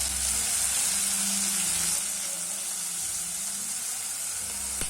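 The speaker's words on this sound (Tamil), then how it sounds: "கட் பண்ணி வச்சுருக்க வெங்காயத்தையும் சேர்த்து நல்லா வதக்கி விட்டுக்கலாங்க." Chopped onions and tomatoes sautéing in oil in a pan for okra sambar give a steady close sizzle and hiss, with a brief stir near the end.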